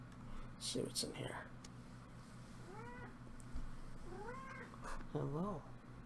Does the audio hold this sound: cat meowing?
yes